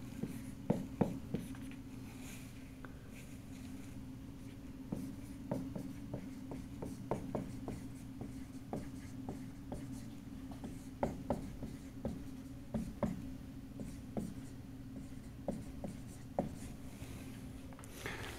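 Chalk or marker strokes on a board in a physics lecture hall on Coulomb's law and electric fields: a long run of short, sharp taps and scratches in an irregular rhythm over a steady room hum, with no talking.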